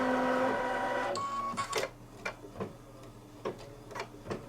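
Embroidery machine stitching batting down on a Santa table runner: a brief whirring run, then a string of quiet, evenly spaced mechanical ticks and taps nearby.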